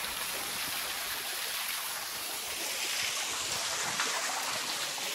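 A waterfall in dense forest, running lower in summer, gives a steady broadband rush of falling water that continues without a break and without talking.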